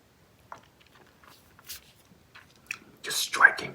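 Close, quiet chewing of sticky, chewy Mike and Ike sour pineapple candy, soft wet smacks and squishes at scattered moments that grow louder toward the end, with whispering in between.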